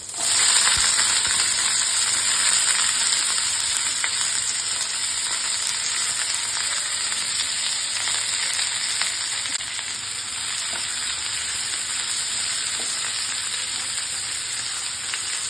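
Sliced onions, added after cumin, fry in oil in a pan for an okra dry stir-fry, a loud, continuous close sizzle with an even hiss, a few faint clinks of stirring, and no one speaking.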